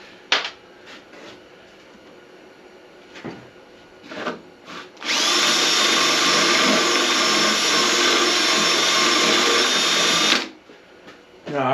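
A few faint knocks and shuffles, then a power drill whirs loudly and steadily for about five seconds before stopping abruptly.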